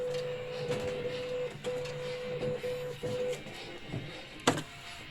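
A DTG (direct-to-garment) printer, model 1400/1390, under repair hums steadily with a sustained mechanical tone that cuts in and out, punctuated by a few clicks and a sharp clack near the end.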